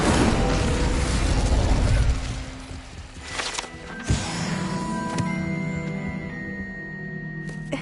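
An Incendio fire spell cast in a fantasy wizarding video game, a loud roaring whoosh that fades into mechanical rattling and clicks, ending in a sharp burst and lingering tonal hum.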